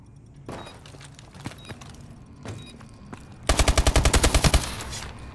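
Rapid gunfire in Call of Duty: Advanced Warfare: a loud burst of about ten close shots in quick, even rhythm near the end, after quieter scattered game sounds.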